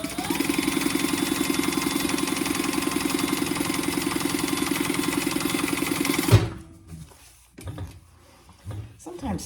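An industrial sewing machine stitches in a steady, fast, even run for several seconds, then stops abruptly, leaving a few soft handling knocks and shuffles.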